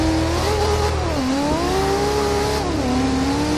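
A Nissan S15 Silvia drift build with a turbocharged RB26 engine drives in the rain in Forza Horizon 2. The engine is loud and close, revving hard with a sharp drop at each of two quick gear shifts.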